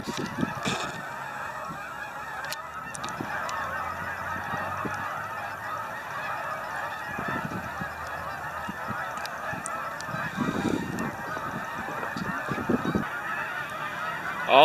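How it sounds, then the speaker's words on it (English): A flock of geese flying high overhead honks continuously from a distance, overlapping calls forming a steady clamor over open outdoor ambience. "All those geese way up there"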